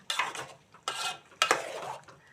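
A spoon scraping and stirring a tempering with dried prawns in a metal pot, three distinct rasping strokes in a slow rhythm, close and fairly quiet with no talking.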